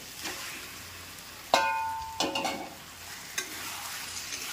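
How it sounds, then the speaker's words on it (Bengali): Marinated chicken tossed into a kadai of frying spice masala: a sharp clatter as the pieces drop in, then scraping stirs over a steady hiss of sizzling oil, close, with no talking. "মশলাটা এখানে একটু সামান্য কষানো হলে তারপর আমি এই যে ম্যারিনেট করে রাখা চিকেনগুলো এর মধ্যে অ্যাড করে দেব"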